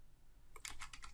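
A few quick computer keyboard key presses, soft close clicks in a short burst after a moment of near silence, with no one talking.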